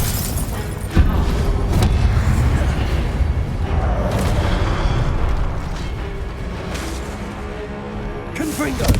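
Booming blasting-spell explosions go off amid a rumbling, dense battle din in the Hogwarts video game, with repeated heavy thumps layered under shouted incantations.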